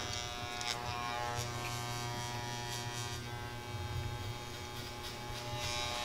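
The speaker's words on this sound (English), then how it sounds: "Just want to make sure all my clipper work is done." Electric hair clippers buzzing steadily during a skin fade haircut, a continuous close-up electric hum with slight shifts in pitch as the blade moves through hair, no talking.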